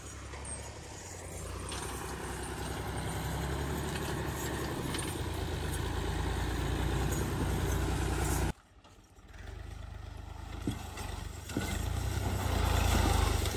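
A tractor engine struggling in cold weather runs with a low, steady rumble and rattling, cutting out briefly partway through before rumbling again, loud and close.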